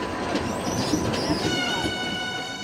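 A passenger train rolls along the rails with a rhythmic clatter of wheels and a high metallic squeal, heard up close and steady from inside the moving train.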